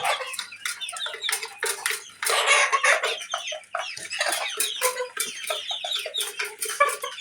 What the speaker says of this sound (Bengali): দেশি মুরগি, পিওর দেশি।